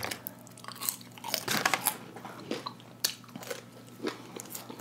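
Crunchy french fries being bitten and chewed up close, a series of irregular crisp crunches and mouth sounds with short pauses between bites.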